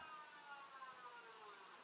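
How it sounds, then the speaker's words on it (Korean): A siren sounds somewhere in a village, a faint, distant, sustained wail whose pitch slowly sinks, heard alone without talk. "지금 우리 마을에서 사이렌이 울리고 있습니다."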